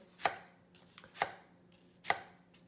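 A knife cuts vertically down through an onion on a board in three sharp, evenly spaced chops with a lighter tap between them, close and clear against a quiet background.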